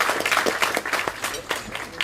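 Audience applause at a GIPPSTAR awards night for an absent young athlete's award, a steady patter of many hands clapping at moderate loudness with crowd noise throughout.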